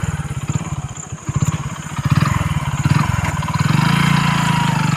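A motorcycle engine runs with a steady, pulsing low throb beside a roadside field, rising slightly in level toward the end with no talk.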